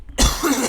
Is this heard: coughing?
yes